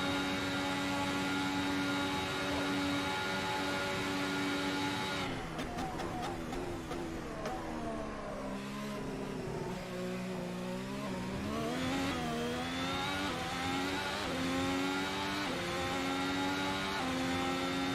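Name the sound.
Ferrari SF70H engine at Monza, from video game Assetto Corsa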